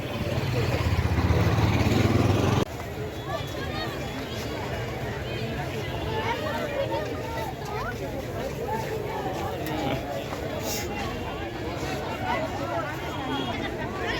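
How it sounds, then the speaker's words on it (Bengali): A dense crowd packs a Pohela Boishakh new-year fair on a new road in Agargaon. A loud engine idles briefly before a steady wash of crowd babble takes over, with voices talking nearby. "প্রচুর ভিড় মানুষের চাপে যাওয়াই যেতেছে না"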